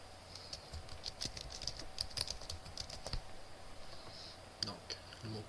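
Password being typed on a computer keyboard during a Linux language setup, a steady run of light key clicks with a few sharper taps, quiet and close, under faint background hum and a brief voice.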